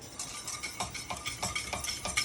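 A utensil stirs cold butter into beurre blanc sauce in a pan, making close, rhythmic scraping and swishing strokes about twice a second over a faint background hiss.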